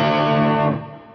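A guitar played through a Fender Bassbreaker 15 amp at medium gain rings out as one sustained, distorted chord that fades after about a second.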